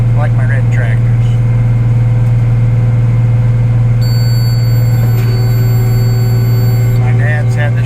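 A 1983 International 5288 two-owner tractor, hitched to a New Holland round baler, runs with a constant low drone and steady hum, close and loud throughout while voices talk over it.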